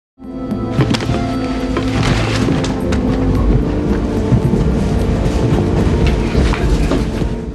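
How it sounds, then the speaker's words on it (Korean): A passenger train rolls into Provence in a film scene, its steady rumble and rhythmic clatter of wheels on rails loud and continuous throughout, with no voices. "다음 날 아침 프로방스 지방으로 들어서는 기차"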